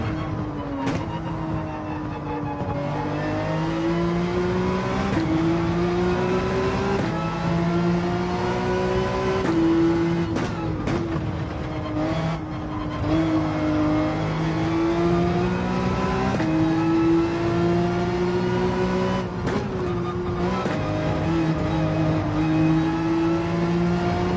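A Lamborghini engine in Gran Turismo 7 whines and revs continuously through a race, its pitch rising with each gear and dropping sharply at shifts, loud and unbroken with no talking.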